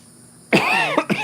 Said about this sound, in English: I tend to cough when I talk a lot.